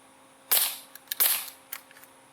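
A Gamo P-430 CO2 pistol fires pellets in two sharp, close pops with hissing tails, each followed by lighter mechanical clicks, with no one talking.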